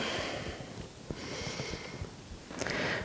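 Soft, slow breathing and a faint nasal snort during a dynamic yoga pose, close and quiet over a gentle background hiss.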